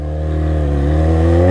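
A Yamaha XJ6 motorcycle engine revs up loudly and close by near the beach, a deep rising roar with strong harmonic growl climbing steadily in pitch, with no voices over it.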